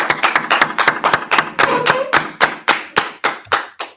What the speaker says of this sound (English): Clap it up, Israel.